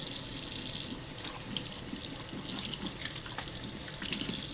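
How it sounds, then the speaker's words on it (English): Hands washed under a running kitchen tap while cooking a coconut curry, a continuous close gush of water splashing into the sink with faint shifting splatters, no talk. "I guess I gotta keep washing my hands."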